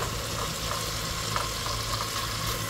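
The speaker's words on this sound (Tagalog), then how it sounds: "Gigisahin ko muna yung miso dyan bago ko ilalagay yung head ng salmon." Miso sautés with tomatoes in a pan for sinigang sa miso, a continuous close frying sizzle with no talk.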